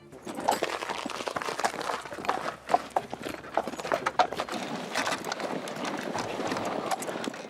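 Horse walking in circles to drive a Victorian cider mill on a farm, hooves clip-clopping steadily at a slow walking pace, mid-distance and loud, with birds cooing nearby and faint voices.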